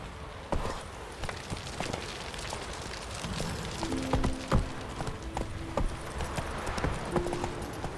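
The horse Roach in The Witcher 3 clops along in a steady hoofbeat rhythm, fairly close, with a few brief tonal in-game effects layered over the hooves.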